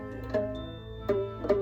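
Three twangy plucks of a stretched rubber band with a hot glue stick underneath, each ringing at a fairly high pitch with a short buzzing decay, close up.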